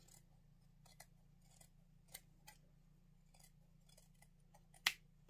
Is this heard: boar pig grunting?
no